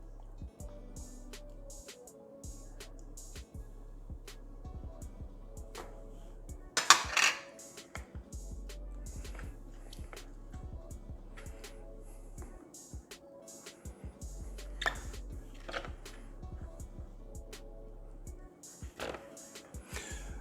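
Melted butter mixed into mashed bananas in a bowl for banana nut muffins, giving a steady close scrape and clink of a utensil against the bowl, with occasional sharper knocks and a low hum underneath.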